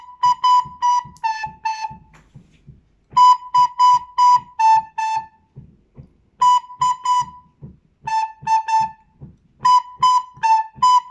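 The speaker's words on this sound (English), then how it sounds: "So on recorder, it would sound like this." A recorder plays short groups of clear, steady notes during a music lesson, phrases of four to six tones separated by pauses, with soft counting and talking between the phrases.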